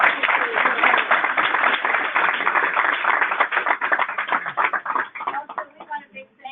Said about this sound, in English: Can we hear applause for our students?